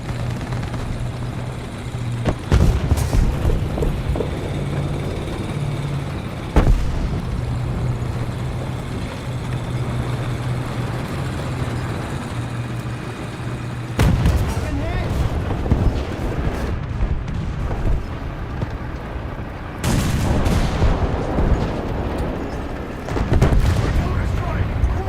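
Artillery strike explosions in the War Thunder tank game: heavy booming impacts land over a continuous rumbling engine and battle din, with several loud bursts spread through the stretch.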